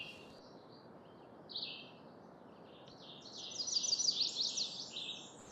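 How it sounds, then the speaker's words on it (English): Yellow warblers sing faintly across an open wetland, their thin high phrases building toward a brighter burst near the end. A soft background hiss runs beneath. "Out here, yellow warblers, a lot."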